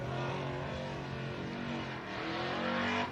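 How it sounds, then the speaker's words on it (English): A race truck at the Gundy 500 drives past with a loud, sustained engine roar that stays strong and steady, swelling slightly toward the end as it nears. "Truck sounding good."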